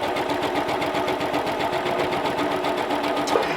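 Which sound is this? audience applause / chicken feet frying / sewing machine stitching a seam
sewing machine stitching a seam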